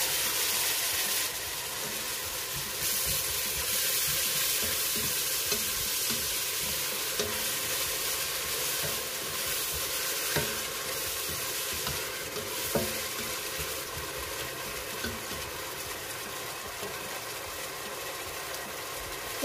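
Bell peppers and tomatoes sautéing in a pan for Yatimcheh, a Persian dish, giving a continuous loud sizzle with occasional stirring scrapes and no voices.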